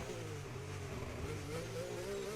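Safety car driving around a virtual Singapore street circuit in a racing game, a steady mid-pitched engine drone with shifting revs, close and continuous with no talk.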